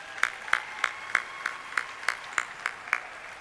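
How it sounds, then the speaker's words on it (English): A small scattering of hands clapping at a gala evening honoring legends of African American music, about ten distinct claps in a slow, steady rhythm, faint and somewhat distant. "Again, let's give them another round of applause."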